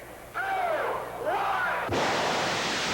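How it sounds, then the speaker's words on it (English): A hydrogen peroxide rocket dragster built on a Vega launches down a quarter-mile strip with a violent blast of thrust, a loud roaring rush that swells, then surges into a harsher, brighter roar partway through. "Squirted on a silver screen, it creates a violent explosion, thrusting this Vega down the quarter mile at 300 miles an hour."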